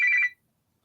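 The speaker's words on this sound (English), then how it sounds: "I forgot to mute the old phone." An old telephone rings once, a short electronic-sounding ring that stops abruptly, loud and close with silence after.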